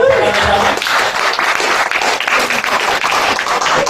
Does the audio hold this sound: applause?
yes